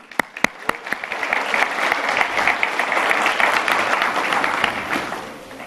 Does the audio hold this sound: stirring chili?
no